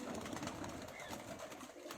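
Pigeons coo softly in a loft in Karachi, a low faint murmur of calls beneath a soft background hiss.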